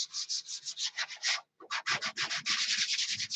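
Coarse hand-sanding of a blocker coat, a rhythmic series of rough scratchy rubbing strokes up close, with a brief pause midway before the steady strokes resume.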